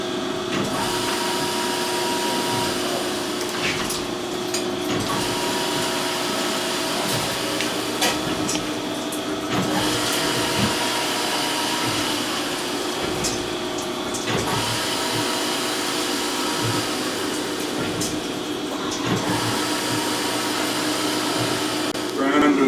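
An aging 460-volt knife grinding machine with automatic head feed and travel, built for knives up to 60 inches, runs with a steady, loud mechanical whir and scraping hum that stays constant throughout.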